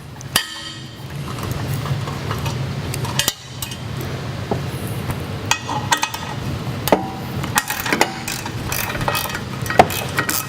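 A socket wrench with a 10 mm deep socket backs out the shroud screws on an Earthquake walk-behind lawn edger, giving close, irregular metallic clinks, taps and ratcheting clicks over a low steady hum, with no one talking.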